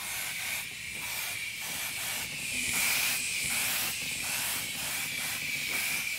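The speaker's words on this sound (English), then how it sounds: "I'll put on my airbrush a little bit. Just really lightly mist on." An airbrush lightly misting paint onto a quarter-scale Aquaman figure, a close, steady airy hiss pulsing on and off in short bursts about every half second, with no voices.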